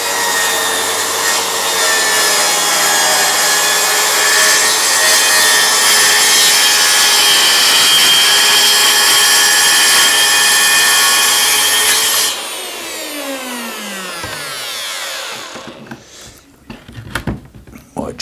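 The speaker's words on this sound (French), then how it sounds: "je vais prendre la scie plongeante" A plunge saw cuts steadily through a solid wooden door panel during conversion to a glazed door, a loud sustained whine and rasp for about twelve seconds before the blade lifts out and the motor winds down, followed by a few faint handling knocks.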